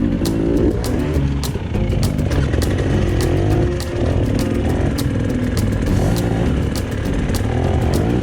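An enduro motorcycle roars at high revs on a cross-training trail, its rear wheel spinning, with the engine loud and close throughout and a steady sputtering buzz.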